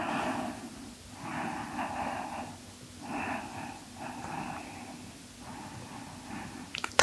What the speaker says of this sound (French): Des grandes respirations.